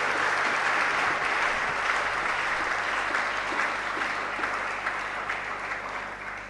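A church congregation claps and applauds in acclamation during a teaching session, a steady, dense wash of many hands sustained throughout and easing slightly toward the end.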